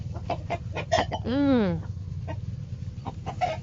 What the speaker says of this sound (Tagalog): Dami alaga ni mother na manok.